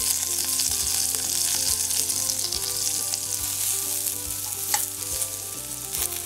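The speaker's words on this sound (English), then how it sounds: "So I'm going to be adding some coconut oil to my pot. And I'm going to be adding my onions, pimentos and pepper." Onions, pimentos and pepper frying in coconut oil in a pot, a loud, continuous bright sizzle with scattered crackles and soft stirring scrapes, close by, with no voice over it.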